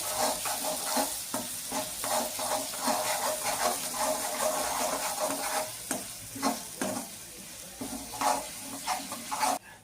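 Chicken for ghee chicken roast sizzles in hot oil in a pan, with a steady crackling hiss broken by repeated scraping strokes as it is stirred, close and moderately loud, with no talking.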